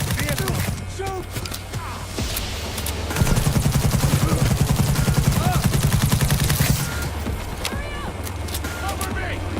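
Gunfire from a vehicle ambush in the video game Cyberpunk 2077, with rapid bursts and dense automatic fire that swells loudest in the middle and runs throughout under shouted voices.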